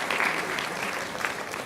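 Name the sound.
audience applause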